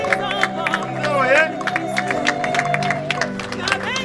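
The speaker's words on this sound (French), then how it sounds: "Applaudissez pour Arizé." Wedding guests in a hall applaud and cheer, crowd clapping continuing underneath loud music and voices throughout.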